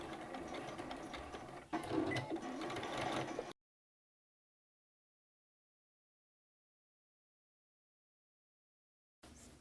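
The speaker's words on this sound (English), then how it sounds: "My machine's been having no problem going through all those layers, because even though this canvas is thicker, it's still really easy to sew with." A sewing machine drives through several thick canvas layers of a tote bag, a close mechanical whir lasting a few seconds, briefly surging, then stopping into silence before a short restart at the end.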